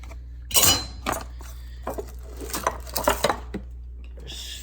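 Beyond Meat Italian meatball ingredients are mixed together in a bowl, giving close, irregular clinks, knocks and soft squishy scrapes against the bowl, with no talk.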